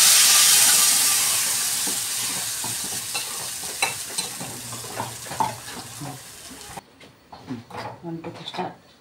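Dried red chillies and curry leaves sizzle and crackle in hot oil, a loud hiss at first that fades into scattered pops and stirring sounds.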